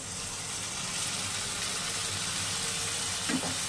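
Spice paste with cumin powder and Kashmiri chili powder sizzles steadily in a pan after a splash of water is added, a close, even frying crackle with a faint scrape near the end.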